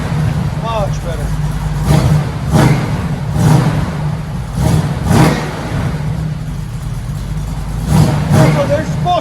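A 1969 Chevrolet Camaro Z/28 with Flowmaster Flow FX true dual exhaust revs in several short bursts, each throttle blip rising over a steady idle rumble, close and loud, with a person talking in between.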